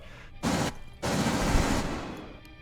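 Gunfire from a tactical shooter video game: two dense bursts of rapid shots, a short one followed by a longer sustained volley, loud and close with no voices.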